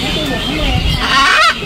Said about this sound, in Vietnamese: Bốn con vẹt.